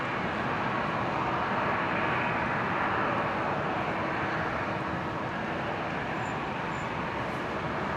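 A Qantas flight 541 airliner departs Brisbane Airport for Sydney with a constant broad engine roar that holds steady and fairly loud the whole time, with no talking.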